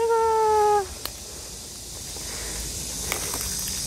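A cat in a Korean village lane on Ojanggol-gil, Gunbuk-myeon, Haman County, gives one clear, close meow at the start, followed by quiet outdoor ambience with faint scattered sounds.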